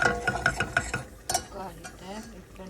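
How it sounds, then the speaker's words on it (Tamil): A utensil stirs milk into a roux for white sauce in a pan, giving soft rhythmic scraping and clinks that fade into gentle bubbling. The sounds are quiet and close. "அந்த 1 கப் பாலை இதுக்குள்ளே விட போகிறேன்"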